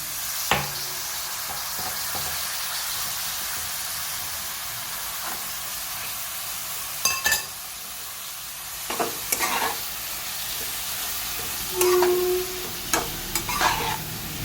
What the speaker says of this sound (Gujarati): હવે એના અંદર આપણે નાખી દઈશું પાલકની ભાજી